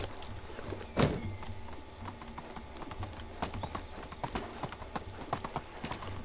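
Horse hooves clip-clop steadily in the medieval game Medieval Dynasty, a rhythmic run of close hoof strikes over ambient game sounds, with a louder thump near the start and a light jangle of tack.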